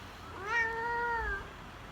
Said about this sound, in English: I got a really grumpy cat that I have to kind of